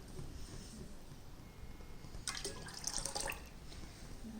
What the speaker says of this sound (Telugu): ఇంకొక cup water, 1 glass water add చేస్తున్నాను.